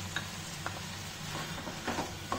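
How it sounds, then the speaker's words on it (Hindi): Soya chunks are stirred with soy and Schezwan sauces in a frying pan, a soft sizzle under quiet scraping strokes of a spoon, low and close. "से मिक्स कर लें और इसमें हम थोड़ा सा नमक डाल देंगे"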